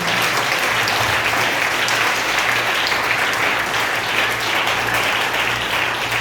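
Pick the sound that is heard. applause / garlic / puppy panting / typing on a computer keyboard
applause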